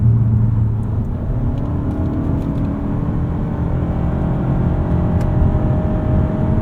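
A 2025 Toyota Camry XSE AWD with an eCVT, driving in sport transmission mode, gives a steady, loud engine and road drone from the cabin that holds fairly even with no distinct rev spikes.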